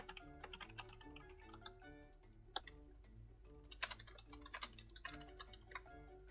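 Rapid typing clatters on a QWERTY computer keyboard, with dense, irregular key clicks that run throughout and rise into a few louder clusters, over a faint tonal background.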